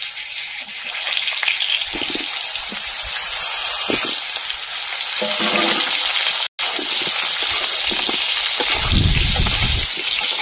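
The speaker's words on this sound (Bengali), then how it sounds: "এবার আলুটা ভেজে দেবো।" Potatoes frying in hot oil in a wok, a loud, steady sizzle and crackle with shifting bursts as the pieces are stirred, briefly cut off midway.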